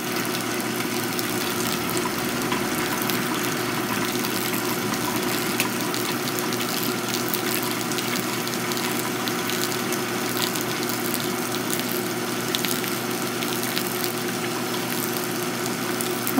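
Hot water poured in a deliberately thin stream for brewing, a steady continuous trickle with a constant hiss and low hum, with no talk over it.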